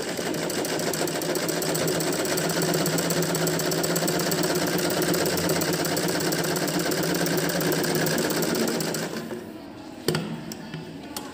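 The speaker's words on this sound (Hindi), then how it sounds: "इसको हम ज्वाइन कर देंगे सिलाई करके" A sewing machine runs steadily and continuously, stitching the edges of fabric together for a smocking frock. Then it stops near the end, leaving a few faint clicks.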